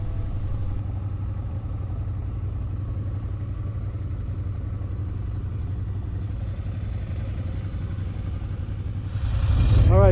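A Harley-Davidson Fat Bob 114 engine runs in a low, steady rumble throughout, then swells louder at the very end as the bike is revved.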